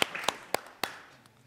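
A few scattered hand claps from an audience at a saz music performance, four sharp separate claps spaced about a quarter second apart, fading into quiet room noise.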